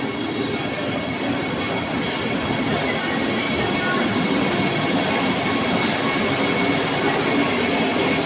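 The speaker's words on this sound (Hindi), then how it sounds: "ये देखो कितनी प्यारी सी है, वंदे भारत।" Constant rumble and rolling clatter of a train at Kathgodam railway station at night, near a Vande Bharat train, continuous and fairly loud with no gaps.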